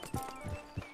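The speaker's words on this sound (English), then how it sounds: "Get your horse." Horse hooves clip-clopping in Red Dead Redemption 2, a few soft, distinct thuds in an uneven walking rhythm, close and quiet, with no talking over them.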